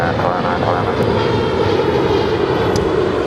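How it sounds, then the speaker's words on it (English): Airliner engines roar steadily through a takeoff roll on runway 25 right at LAX, a loud, continuous broadband rumble throughout, with faint voices under it. "runway 25 right, clear for takeoff"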